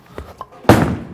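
A Hammer Arctic Vibe bowling ball lands on an oiled lane with a sudden heavy thud, then rolls away with a broad rumble that fades, following a few faint knocks.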